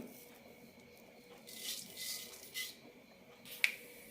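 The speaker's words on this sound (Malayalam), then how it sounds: "കടുക് പൊട്ടിക്കഴിഞ്ഞിട്ടുണ്ട്" Mustard seeds spluttering in two teaspoons of hot oil in a pan, a few faint scattered pops over a quiet hiss, ending in one sharp crack.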